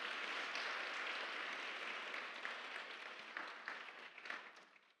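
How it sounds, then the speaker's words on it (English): Audience applause following a dance recital performance, a steady wash of clapping that fills the clip and gradually fades toward the end, with no talk over it. "A round of applause, please."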